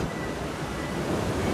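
Water rushes and churns steadily on a water rapids ride at Hellendoorn, Netherlands. It is a loud, broadband roar close to the microphone, with wind buffeting throughout and no speech.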